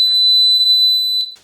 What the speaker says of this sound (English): The alarm will sound for 1 minute and the lock will remain locked.